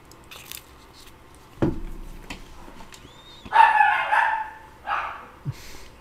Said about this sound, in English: This dog, man, he keeps barking